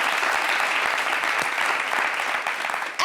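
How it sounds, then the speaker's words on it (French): Studio audience at a French-language talk show applauds a guest, dense and fairly loud clapping that stays even for about three seconds before tapering slightly at the end. "Applaudissez pour elle."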